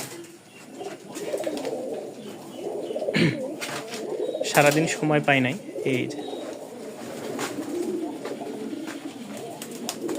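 Pigeons coo in a low, rolling way, with a few louder bursts in the middle. Someone talks over them in a casual tone.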